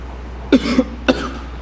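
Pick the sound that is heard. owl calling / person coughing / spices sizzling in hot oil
person coughing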